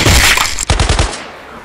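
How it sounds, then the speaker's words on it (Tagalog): Gunshot sound effect in a dramatized story: a loud burst of several rapid cracking shots in quick succession, trailing into a fading echo, with no talk. "putok ng baril ng tumutok kay Atan"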